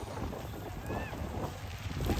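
Wind blows across the microphone in a steady low rumble beside a standing wheat field in Sangrur, Punjab, gusting slightly stronger toward the end.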